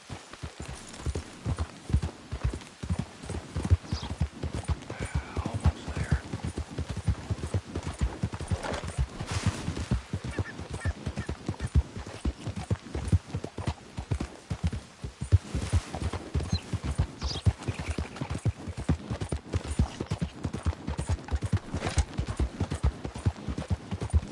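Horse hooves clip-clop in a video game, a steady, brisk rhythm of close thudding steps running the whole stretch with a low hum beneath.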